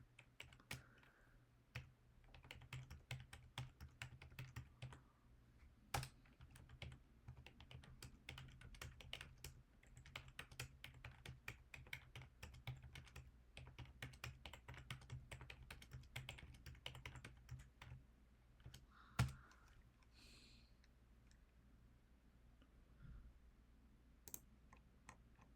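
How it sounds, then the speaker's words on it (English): Someone types on a computer keyboard, with a long run of quiet, irregular key clicks and a few louder taps, heard close and alone. "Typing in for the wrong one."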